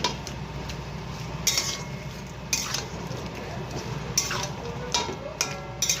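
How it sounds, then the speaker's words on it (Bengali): Chicken coated in spices is stirred in a wok with a metal spatula, giving a continuous scraping rustle broken by regular louder clanks against the pan, with faint sizzling underneath. "দেখো নেড়ে দিচ্ছি"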